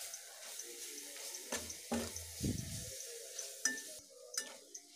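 Water is poured into a pan of tomato curry on the stove, giving a brief gush and splash with faint sizzling and clinks around it, all quiet and close.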